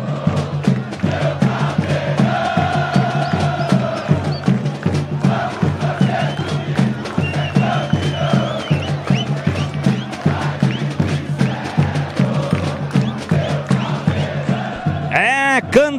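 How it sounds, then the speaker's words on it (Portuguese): Unidos do Picerno supporters chant and sing in unison at a football cup final, a loud, sustained crowd song with a steady beat of claps or drums, ending with a sharp whistle-like rise. "canta e canta bonito a torcida do Unidos do Picerno"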